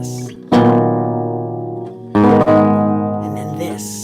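Classical guitar chords strummed plainly without arpeggiation in a recital hall, two ringing block chords struck several seconds apart, each left to decay naturally, with no voices over them.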